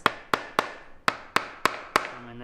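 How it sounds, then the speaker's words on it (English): Seven sharp, ringing hammer blows land on a wooden wall joint of a DIY teardrop camper, loud and close in an uneven rhythm, each one decaying quickly. No one talks over the strikes. "You're not affected by the loud hammering?"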